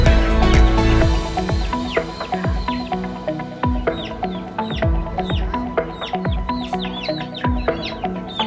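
Many chickens cluck and squawk loudly and close, in a dense, busy chorus of overlapping calls, heard during a free poultry distribution to villagers, with no speech over the birds.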